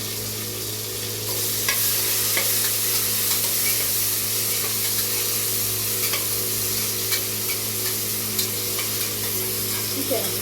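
Chopped onion, tomato and green chilli hit a hot pan and fry with a steady, close hiss and sizzle, with light stirring taps throughout.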